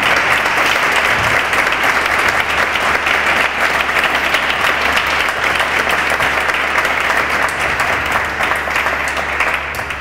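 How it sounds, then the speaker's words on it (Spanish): Sustained applause from a concert-hall audience in Nerva, greeting pianist Javier Perianes; dense, steady clapping fills the whole stretch at a loud, even level without letting up. "sería conveniente pues entrar un poquito en calor con un aplauso"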